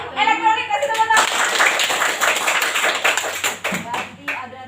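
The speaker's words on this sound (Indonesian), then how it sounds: "Ya, elektronik, kasih tepuk tangan." A sixth-grade elementary class claps together in the classroom, a burst of quick, fairly close hand claps in a brisk rhythm, with a teacher's voice briefly over the start.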